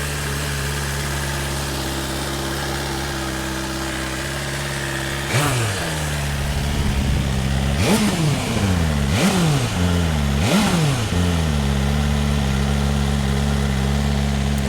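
Yamaha R1 crossplane-engine motorcycle idles with a steady, uneven burble, then four sharp throttle blips rise and fall in quick succession, close and clear with no talking.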